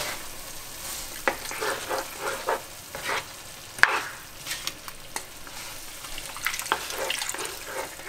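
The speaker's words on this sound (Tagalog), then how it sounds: "Patuloy natin i-mix para hindi siya mamuo." Dinuguan, a pork blood stew, is stirred in a pot with continuous wet swishing and bubbling, plus occasional knocks of the spoon against the pot.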